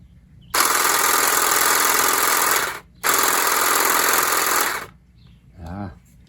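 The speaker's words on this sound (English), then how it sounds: "See how noisy this attachment is. It's got about a 12-inch cutting width on there. Decent size for a battery-powered hedge trimmer." A Saker cordless battery-powered hedge trimmer with a roughly 12-inch cutting width runs loudly in two long buzzing bursts separated by a short pause, then falls quiet as a brief voice follows.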